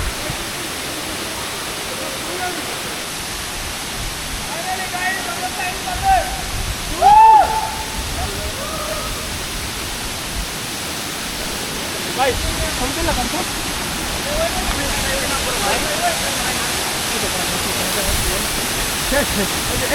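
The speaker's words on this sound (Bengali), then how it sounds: "আমাদের সেই কাঙ্ক্ষিত যে সাইনপ্রা ঝর্ণা সেইখানে আসতে পেরেছি দেখেন কতটা সুন্দর" Saingpra waterfall in wild hill country, reached after a long trek, gives a steady broadband roar of rushing water through the whole stretch, with a brief voice cutting in near the middle.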